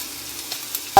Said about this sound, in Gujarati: સરસ મજાનું શાક વઘારાઈ ગયું છે.